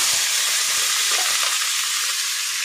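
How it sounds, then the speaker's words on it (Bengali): Potatoes fry in oil with a loud, dense, unbroken sizzle and hiss close up, with faint stirring knocks now and then underneath. "প্রথমে আলুগুলো ভেজে নিই।"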